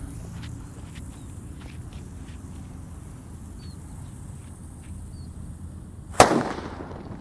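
A petasan firecracker set off for Ramadan bursts once in a single sharp, loud bang near the end, after several seconds of quiet outdoor ambience with faint footsteps and birds.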